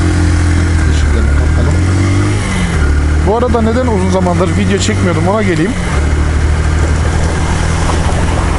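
A motorcycle with a newly rebuilt engine runs steadily in the foreground, a low continuous drone with a brief wavering pitch in the middle, while someone talks over it throughout.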